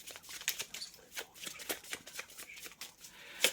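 Tarot cards shuffled by hand in a rapid run of soft crisp riffles and flicks, close and fairly quiet, with a sharper snap near the end and no talking.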